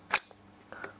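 A rifle bolt being opened and drawn back: a sharp metallic click, then a fainter double click a moment later, close and quiet with nothing else around.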